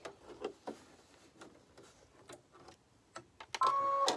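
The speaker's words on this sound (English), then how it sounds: "I still giggle with delight with this machine, with doing that automatic threading." An embroidery machine runs its automatic threading cycle, a series of sharp mechanical ticks and clicks spaced irregularly, ending in a louder whirring burst with a tonal whine.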